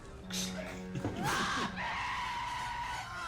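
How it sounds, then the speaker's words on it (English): A loud scream from the film Robin Hood: Prince of Thieves rises over dramatic movie audio with music, brief and intense, followed by sustained orchestral tones. "That was a good scream."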